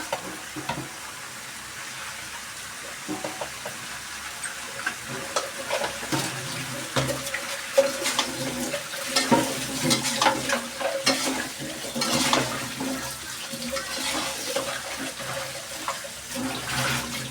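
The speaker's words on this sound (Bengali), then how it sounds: "একটু নেড়ে দিব। এই যে নেড়ে দিলাম।" Pumpkin being stirred in a pan, a cooking dish made with prawns, with steady scraping and stirring over a continuous sizzle, close and moderately loud, no talk.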